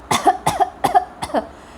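Four short, sharp coughs in a steady rhythm, close by and fairly loud, with brief pauses between them.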